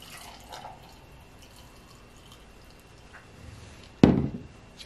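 Hot liquid poured into a big mug over a peppermint cocoa bomb, a short splashy burst arriving near the end after a mostly quiet stretch.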